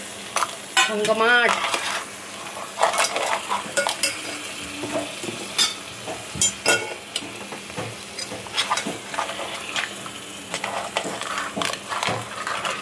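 Crabs frying in masala sizzle steadily in a pan while a utensil stirs and scrapes, with repeated metallic clinks and knocks against the pan, close up.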